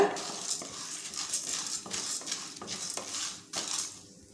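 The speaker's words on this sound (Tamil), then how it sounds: "இப்போ இது எல்லாத்தையும் சேர்த்து கொஞ்சம் வறுத்துக்கலாம்" Toor dal lentils and red chillies dry-roasting in a pan, with a spoon scraping and stirring in repeated strokes, close and moderately loud, with occasional clinks of the utensil on the metal.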